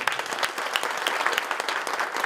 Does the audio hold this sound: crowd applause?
yes